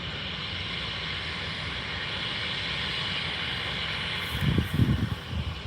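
Airliner at Aberdeen Airport giving off a steady, broad jet roar that holds through the whole stretch, with a short burst of rumbling thumps near the end.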